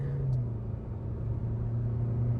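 A new Kia Seltos with an automatic gearbox accelerates at full throttle, giving a steady, close, low engine drone and road rumble that holds evenly throughout with no talking.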